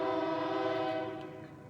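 A train horn sound effect plays during a live papercraft class as a prize cue, a loud sustained tonal blast that fades slightly toward the end, with no talking over it.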